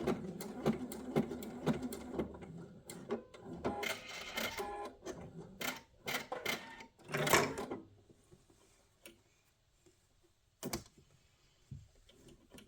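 Sewing machine stitching straight across a fabric book wrap, a notebook cover, running in short bursts with pauses and clicks, loud and close, then quieter handling near the end.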